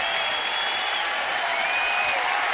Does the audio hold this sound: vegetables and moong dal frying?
no